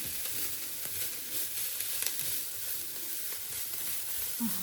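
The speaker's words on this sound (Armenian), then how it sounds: "թող միասին տապակվի" Chicken and pepper fry together in a pan with a continuous, moderately loud sizzle and faint stirring scrapes and no voices.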